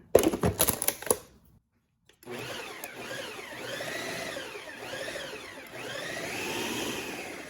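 An electric mixer whirs through vegan snickerdoodle cookie dough with brown sugar. Its pitch rises and falls in a steady sweeping rhythm after a few sharp clatters and a brief silence at the start.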